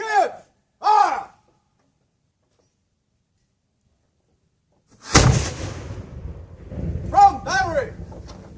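A historic artillery cannon fires at an outdoor demonstration: one sharp, very loud blast followed by a rolling rumble that echoes and fades, with people speaking briefly before and after the shot.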